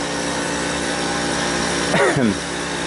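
A Goodman 5 ton AC unit with a bad condenser fan motor, its compressor giving a steady loud hum and drone, while a voice speaks briefly over it near the end.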